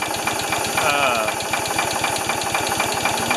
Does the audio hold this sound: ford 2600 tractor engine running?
yes